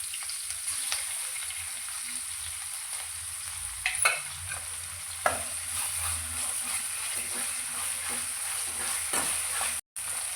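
Ginger garlic paste fries in a pan with cauliflower and peas, giving a soft continuous sizzle punctuated by a few sharp clicks and scrapes of stirring, close and fairly quiet.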